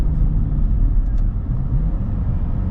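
Jaguar XFR, a 500bhp car, droning loudly and steadily from inside the cabin as a deep engine and road rumble with no pauses, the sound heard while coming off the throttle.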